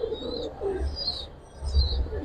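Gribaz and pangkhi pigeons coo in low, soft, repeated murmurs at close range, with faint chirps above them and no talking.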